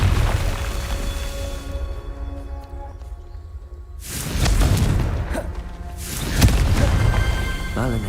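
Fiery Confringo spell blasts in the Hogwarts Legacy video game, two loud booming bursts with whooshing tails around four and six seconds, over a steady low game hum.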